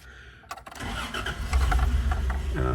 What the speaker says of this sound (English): Let's go ahead and turn the car on.